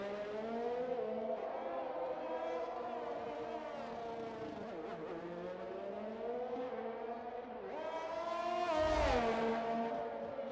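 An F1 2021 video game race car leaves the pits on its out lap, its engine droning steadily with shifting pitch and rising near the end, heard alone.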